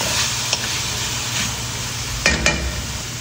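Bitter gourd sautéing in a pan with plenty of green onions and pepper, a steady broadband sizzle with a couple of brief clanks of stirring, close and alone.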